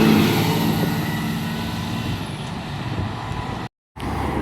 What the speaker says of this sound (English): Another Swindon Bus Company E40D.